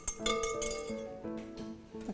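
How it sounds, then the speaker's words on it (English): A utensil clinks repeatedly against a glass bowl while gelatin is stirred to bloom for s'mores, giving light rhythmic taps and rings that sound close and clear with no talking. "Stir this together."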